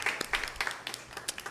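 A church congregation gives brief, scattered applause during Sunday service announcements, a short burst of uneven claps at moderate distance.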